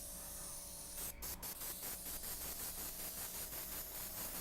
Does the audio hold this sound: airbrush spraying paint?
yes